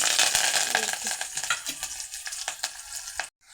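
Onion and curry leaves hit hot oil for a tempering, giving a loud, dense sizzle with crackling pops and a few stirring scrapes, easing off before the sound cuts out abruptly near the end.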